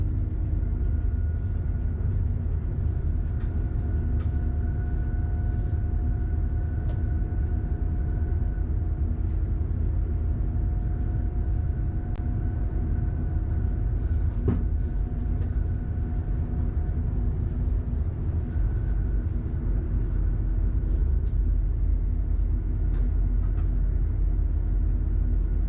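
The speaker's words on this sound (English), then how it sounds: "There are no passengers on this train." An empty Stadler FLIRT passenger train runs steadily from the driver's cab, with a continuous low rumble and motor drone, a few brief tonal whines and occasional clicks and creaks.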